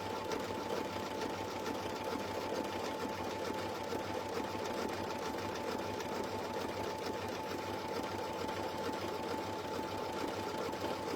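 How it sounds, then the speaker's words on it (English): An embroidery machine stitches at a low speed setting, giving a steady, continuous mechanical whir with a fine rapid needle rhythm and a constant tonal hum, close and even throughout. "I have my machine speed turned down low, so that's why it's taking so long"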